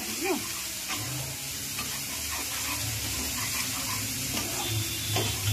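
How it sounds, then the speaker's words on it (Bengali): Spices and chopped tomatoes fry in oil, a steady close sizzle with occasional stirring scrapes and clinks underneath. "এরপর এটাকে ভালো করে আপনি একটু ভালো করে কষে নেবেন যতক্ষণ না তেল ছেড়ে আসছে"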